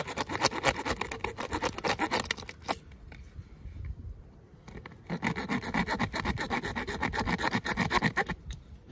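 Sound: Leatherman Surge saw cutting damp wood

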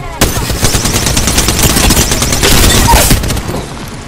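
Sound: gunfire from enemies in the video game Apex Legends

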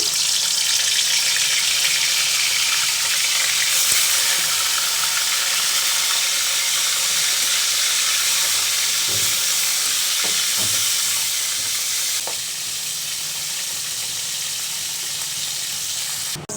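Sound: fish frying in hot oil in a wok

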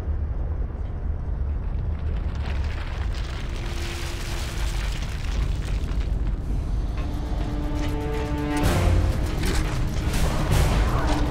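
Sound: seismic rumble and explosions in video game Gears of War 2

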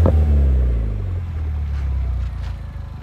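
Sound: sports car exhaust rumbling

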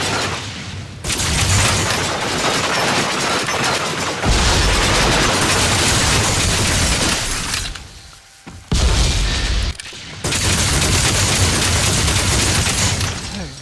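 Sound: grenade explosions in VR first-person shooter video game

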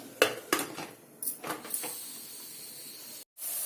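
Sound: putting the lid on a cooking pot

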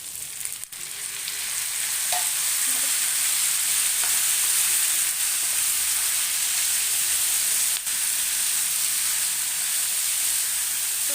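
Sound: tomatoes frying in a pan for chicken gravy

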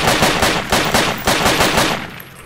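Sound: cover gunfire in the video game Project Reality

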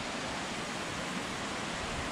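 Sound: waterfall at Blue Hole in Tennessee

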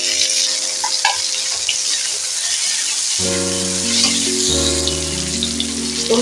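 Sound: chopped tomato frying in oil with garlic

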